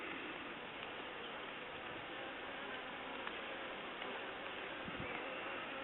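A swarm of bees buzzing around a top bar hive, a steady dense hum that holds at an even level throughout with no talk over it.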